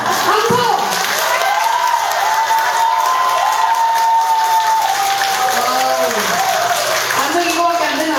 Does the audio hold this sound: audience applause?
yes